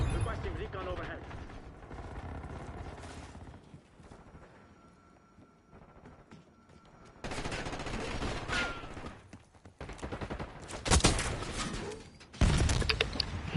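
Call of Duty gameplay with bursts of gunfire and rapid automatic shots, loud in stretches and separated by quieter gaps, heard on its own without talk.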